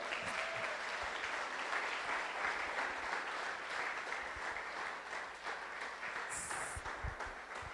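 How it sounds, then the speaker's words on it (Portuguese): Sustained applause from a large church congregation, a dense continuous clatter of many hands clapping that holds steady for several seconds before easing slightly. "aplauda o Senhor"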